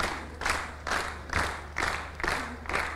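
A crowd at a student quiz competition claps together in a steady, loud rhythm, with about seven unified claps roughly twice per second and a busy room murmur between them.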